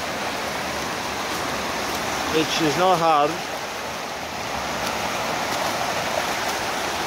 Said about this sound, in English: now crossing the creek